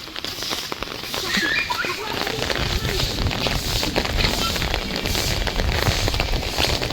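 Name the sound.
first rain of the season falling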